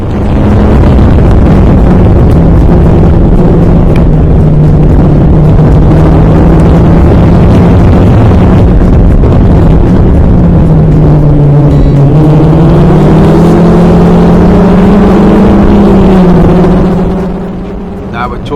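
A classic Formula Ford race car engine during a race at Cadwell, a loud, continuous buzzing drone heard from onboard, rising and falling in pitch with the revs under heavy wind rush.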